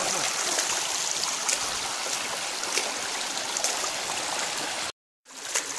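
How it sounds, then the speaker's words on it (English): Mountain river in the Carpathians rushing steadily along a hiking route, a constant broadband roar of flowing water close by that briefly cuts out before resuming. "we will go together with this river"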